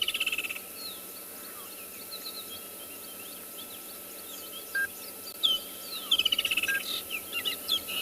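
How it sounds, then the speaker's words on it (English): A woodland kingfisher calls during a South African morning safari, its faint chirps building into a clear, rapid trilling series near the end against a quiet, still bush background. "The woodland kingfisher signaling to us that summer is coming"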